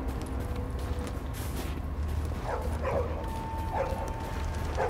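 A dog barks in The Division, a video game set in New York: a few short, sharp barks in quick succession in the second half, heard over a continuous ambient game background.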